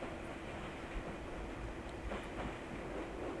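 A ČD 362 electric locomotive, 362.081-2, hauls a train between Klatovy and Plzeň hl.n. in the OpenRails simulator, giving a steady, continuous rolling rumble with faint clicks, loud and unbroken with no talk.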